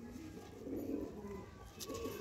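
A pigeon coos softly in low, throaty murmurs, faint and close, against a quiet background hum.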